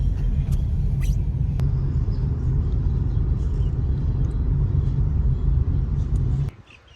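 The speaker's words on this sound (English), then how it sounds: "A bigger truck." A big truck passes close by with a heavy, loud low rumble that holds steady for several seconds, then cuts off abruptly near the end.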